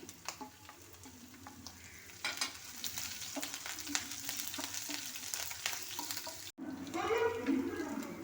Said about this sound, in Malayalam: ഇനി പച്ചമുളക് കൂടെ ഇട്ട് നല്ലവണ്ണം മൂപ്പിച്ചെടുക്കാം